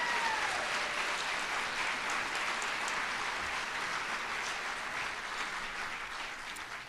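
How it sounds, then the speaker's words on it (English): Audience applause at a Lawton Public Schools celebration, a steady broad wash of many hands clapping that stays even throughout and tapers only slightly near the end, with no talk over it. "if you'll give them a round of applause and thank them"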